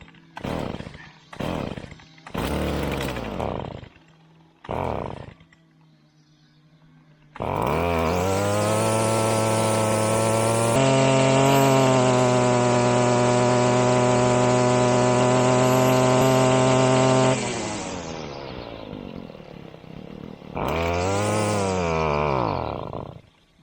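Small engine revving hard at high throttle, a loud sustained high-pitched whine held steady for about ten seconds after several short blips, then easing back and rising again, close and alone.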